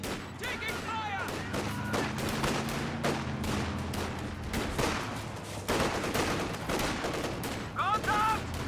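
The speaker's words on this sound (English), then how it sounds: "Contact! Enemy fire!" Dense gunfire and explosions from a war strategy video game, with bursts of shots and booms layered over a low engine rumble, plus radio-style voice lines partway through and near the end.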